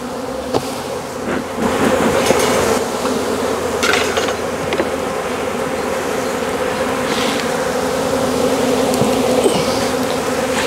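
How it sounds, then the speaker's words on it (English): Honey bees crowd a lifted hive super, giving a loud, steady, close drone with a dense buzz throughout and occasional light knocks from handling. "So we can see there's quite a lot of bees in this super."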